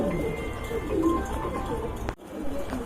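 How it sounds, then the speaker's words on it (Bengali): Pigeons, including Maltese pigeons, coo in soft, low, throaty calls that keep overlapping, with a faint clatter of other bird noise around them. "এইগুলা কিন্তু খুবই তেজি কবুতর"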